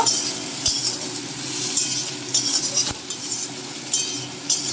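Chopped eggplant is stirred with spices in a pan. A utensil scrapes and clinks against the metal in repeated strokes over a faint sizzle, close and clear, with no talking.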